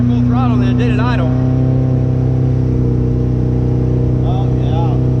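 A motorboat engine runs at full throttle on Lake Allatoona with a loud, steady, droning hum close by, and voices briefly rise over it near the start and end.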